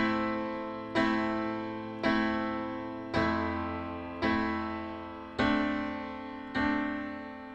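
Piano chords ring out one at a time, seven struck at an even, slow pace, each sustained and decaying before the next, played alone with no talking.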